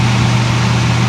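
A 6.1-liter engine without MDS, fitted with hydraulic tappets, idles roughly with no misfire, a loud steady low hum close up for a brief moment.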